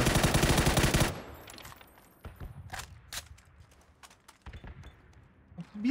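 An M4 rifle in PUBG fires a rapid, loud automatic burst for about a second, then the fire drops away to scattered distant shots and soft footsteps-like knocks.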